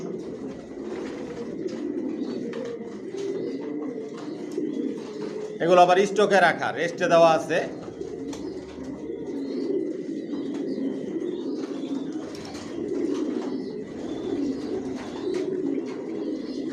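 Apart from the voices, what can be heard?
pigeons cooing, racer pigeon pairs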